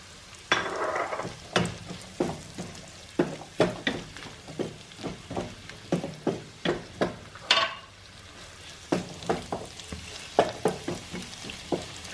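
Chilli garlic mushrooms stir-fried with spring onion in a pan, a steady sizzle broken by a long run of sharp spatula scrapes and clinks against the metal, close up and with no voices.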